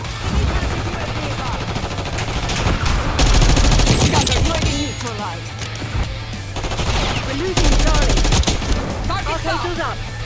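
Rapid automatic gunfire and bursts of shooting in the video game Call of Duty Black Ops 6, loud and dense throughout, with someone talking excitedly over the firing.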